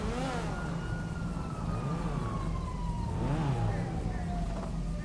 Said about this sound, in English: Another ambulance coming. Oh, there's an ambulance again.